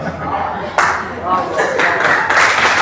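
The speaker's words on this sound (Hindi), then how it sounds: "ताली बजाओ हमारे लिए" An audience claps loudly at a tribal youth exchange programme event with MP Manoj Tiwari; the applause bursts in abruptly and then holds as a dense, steady patter close by.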